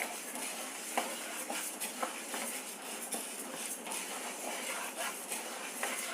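Lentils dry-roasting in a pan while being stirred, giving a soft, steady granular rustle with small scraping clicks from the spoon, fairly quiet and close, with no voices.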